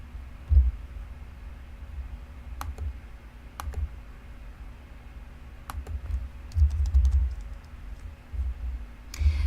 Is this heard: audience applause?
no